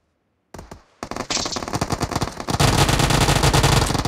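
Rapid automatic gunfire in the BGMI battle royale game: dense, loud bursts that swell into continuous fire over the second half, with no talk.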